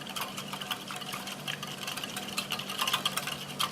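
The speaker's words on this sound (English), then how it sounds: "I'll just stir it up with a whisk." A whisk stirs a liquid yeast mixture for pizza dough in a bowl, making a quiet continuous sloshing swish with rapid rhythmic strokes, close and alone.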